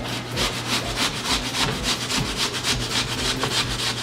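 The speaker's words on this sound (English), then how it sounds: "And we're going to grate apple." An apple is grated by hand in a kitchen, making a steady rhythmic rasping scrape of quick back-and-forth strokes, close and fairly loud, with no talking.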